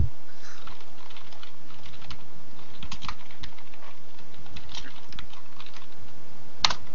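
Steady, fairly close typing on a computer keyboard, a continuous patter of key clicks with uneven rhythm and no talk over it.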